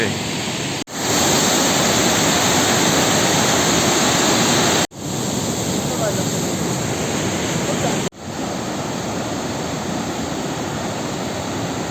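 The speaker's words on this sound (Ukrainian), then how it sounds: "Ну що, шумить же водоспад наш." Roaring waterfall in the Carpathian mountains near Yaremche, a loud, constant broadband rush of falling water close by, broken only by a couple of abrupt cuts.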